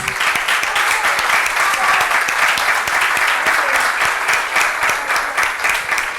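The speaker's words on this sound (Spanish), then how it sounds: "Un aplauso." An audience at a literature conference applauds steadily for six seconds, a dense, even wash of many hands clapping with no pauses, close and fairly loud.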